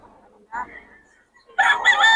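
A rooster crows loudly and close by, preceded by a few softer calls.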